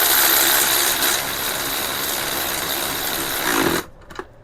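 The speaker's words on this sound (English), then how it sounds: "using a Hercules battery powered ratchet" Hercules battery-powered ratchet driving a 17mm deep well socket on the draw bolt of a mini mill: a loud, close, continuous buzzing whir for almost four seconds, then it cuts off abruptly, leaving near silence.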